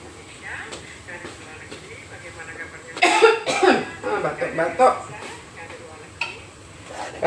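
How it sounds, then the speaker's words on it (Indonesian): A few sharp coughs burst out in a quick cluster over a quiet kitchen background, with light utensil clatter around them. "Batuk teman-teman."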